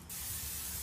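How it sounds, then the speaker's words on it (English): Cooking spray from a can is sprayed onto the back of a spatula while making homemade Samoas cookies: a single close, sharp burst of hiss lasting under a second. "I'm going to spray the back of my,"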